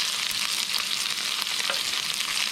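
Two chopped brown onions frying in a pan on a stovetop for a lamb shank and pumpkin curry, giving a steady, close, bright hiss and crackle with no talking.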